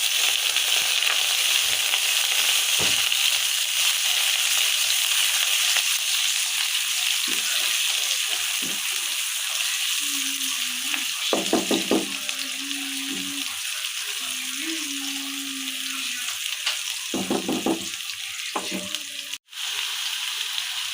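Onion frying in hot oil in a home kitchen, a steady loud sizzle running the whole time with a few brief clinks and stirring scrapes, and a short tonal hum partway through.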